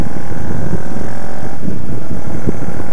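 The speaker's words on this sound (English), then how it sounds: "I don't know if you can hear the exhaust, but it's very loud." A 2009 Kawasaki 650RL motorcycle being ridden, its loud exhaust rumbling low and continuous under heavy wind buffeting on the microphone, steady for the whole stretch.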